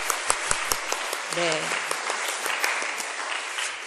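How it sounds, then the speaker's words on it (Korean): Congregation applauds the fifth graders during a Wednesday church service, a sustained roomful of clapping with a few sharp claps at the start and a short spoken reply over it. "우리 귀여운 5학년을 위해서 박수 하겠습니다"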